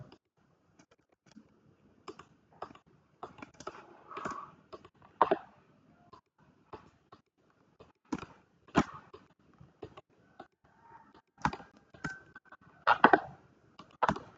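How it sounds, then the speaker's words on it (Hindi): Many crisp computer mouse clicks, scattered and irregular, some in quick pairs, sounding close and fairly loud in a quiet room during a class lesson. "ठीक है, क्लिक।"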